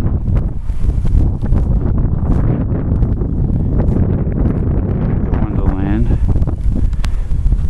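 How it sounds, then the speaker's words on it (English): Strong wind roars and buffets a microphone outdoors at night during a winter snowstorm in northern New Jersey. The rushing, gusty noise is loud and continuous, with a voice briefly speaking partway through. "Wind is still blowing."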